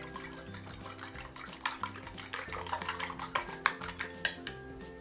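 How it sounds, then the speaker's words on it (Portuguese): Five eggs beaten with a utensil in a bowl, a rapid run of clinking, tapping strokes against the dish at close range, steady and busy throughout with no talk. "Tenho aqui 5 ovos que eu vou dar uma boa batida antes de adicionar na receita."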